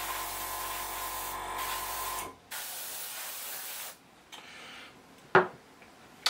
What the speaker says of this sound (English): undercarriage doors here that you see me spraying as I go along